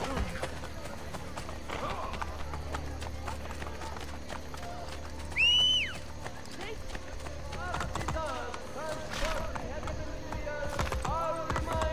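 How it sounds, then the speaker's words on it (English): A horse in the video game Assassin's Creed Brotherhood gallops with quick, rhythmic hoofbeats, heard amid other in-game sounds and voices. "I'll call my horse"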